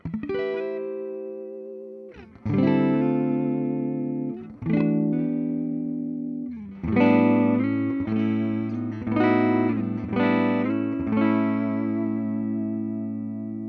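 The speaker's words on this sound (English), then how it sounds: "Great warm tones out of that neck position." Warm, rounded neck-pickup chords from a 2025 Gibson Custom ES-345 electric guitar ring out clearly, struck in a steady sequence of strums with a soft chorus-like shimmer and light reverb.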